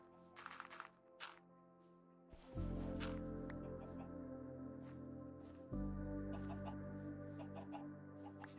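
Minecraft chickens give scattered soft clucks amid clicking footsteps and game ambience, with two heavy low thuds breaking in. The sounds are quiet and intermittent, and no one speaks.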